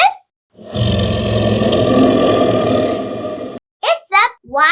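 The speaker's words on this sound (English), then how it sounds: "It's a wild boar." A wild boar lets out one long, rough, guttural grunting roar lasting about three seconds, loud and close. A voice speaks briefly afterward.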